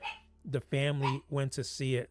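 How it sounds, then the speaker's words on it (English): A dog barks in the background, the yaps overlapping with someone speaking close up in front of it. "Apologize for the dog in the background."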